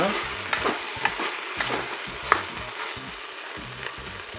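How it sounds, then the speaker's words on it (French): Courgettes and aubergines stirred in a Cookeo multicooker, a spoon scraping the pot in several distinct clacks over a steady soft sizzle, close and fairly quiet with no talk. "Je vais ajouter les courgettes, les aubergines. On mélange tout ça."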